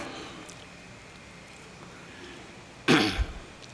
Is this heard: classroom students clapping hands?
no